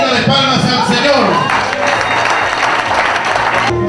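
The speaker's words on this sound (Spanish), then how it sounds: "Ofrenda de palmas al Señor" A church congregation offers sustained, dense applause to the Lord at a gathering of pastors, with voices mixed in throughout.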